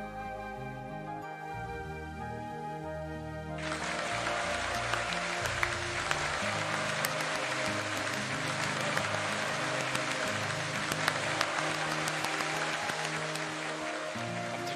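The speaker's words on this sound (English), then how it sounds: "After Genji's words, the relatives all looked at each other and started applauding at once." Applause from a group of relatives in the visual novel game Umineko When They Cry, a dense, sustained burst of clapping that starts abruptly after music and continues loudly to the end.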